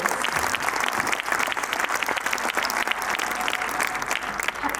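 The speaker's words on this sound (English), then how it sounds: "Let's give these little ones a big round of applause for their outstanding performances" A school-event audience applauds preschool performers with dense, steady clapping that stays even and loud throughout, and a few crowd voices mix faintly in the background.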